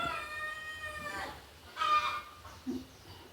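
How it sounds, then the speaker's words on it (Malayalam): A native Kerala rooster crows close by in a drawn-out, harmonic call, followed by a few short clucks and a brief squawk against light background noise. "ഇതാണ് ഒരു പൂവാൻ കോഴി"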